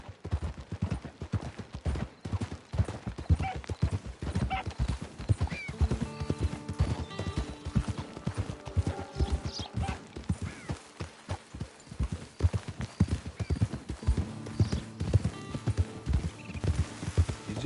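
Steady clip-clop of horse hooves trotting throughout in Red Dead Online on PS5, rhythmic and close, with an occasional whinny and faint distant gunfire in the background.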